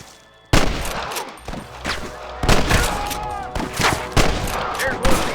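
Gunfire in Red Dead Redemption on Nintendo Switch, a Western shootout with a rapid scatter of loud shots, some overlapping, cracking out irregularly with brief ringing tails and faint voices between.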